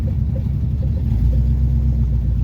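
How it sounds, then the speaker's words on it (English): A '71 Plymouth Satellite wagon with its exhaust dragging rolls along in a steady, low engine rumble, loud and continuous, with no distinct banging standing out. "I can hear some banging back there. I kind of feel like it's the exhaust."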